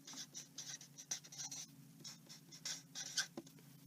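Writing on a board during a math lesson on graphing inequalities: scratchy, rhythmic marker or chalk strokes in short bursts with brief pauses, close and moderately quiet over a steady low hum.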